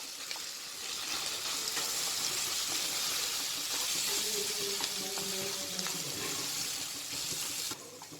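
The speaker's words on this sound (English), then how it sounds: "stir it well and add this mashed potato into it" Mashed potato being stirred into a spice mixture in a hot pan, with a steady sizzling hiss and faint scraping throughout, a few soft clinks, and quiet talk in the background.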